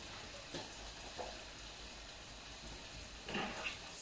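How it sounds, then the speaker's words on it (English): Soft, steady sizzling of onions and peppers frying in a pan, with a few faint clinks and stirring noises over the hiss. "we can start frying the onions and peppers"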